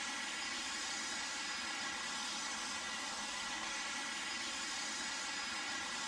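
A Boeing 737 jet engine in Microsoft Flight Simulator X roars as a steady, dense, unbroken drone, with no change in level and no talk over it.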